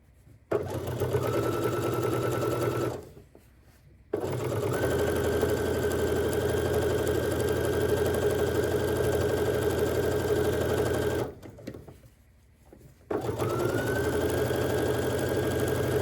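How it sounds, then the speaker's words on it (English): A sewing machine runs in two long bursts of steady stitching as quilt-as-you-go placemat strips are joined, each burst stopping briefly before the motor whirs up again, loud and close. "So let's sew this one together"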